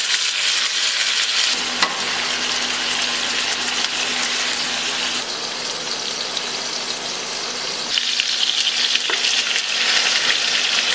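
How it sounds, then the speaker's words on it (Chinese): Tofu pieces fry in hot oil in a pan, giving a loud, dense, continuous sizzle close by that shifts slightly in intensity, with no voices. "这个豆腐煎至两面金黄"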